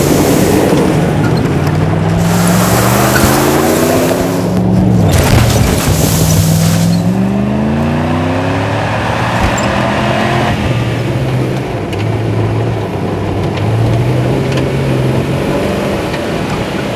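A car drives off, its engine loud and close, the revs rising and falling through several gear changes as it pulls away and keeps moving, with no voices over it.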